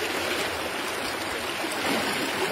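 Fresh water stream rushing through the gorges of Zawiya Sidi Hamza, a tributary of the Ziz river, heard as a steady, close, broadband wash of flowing water with no voices.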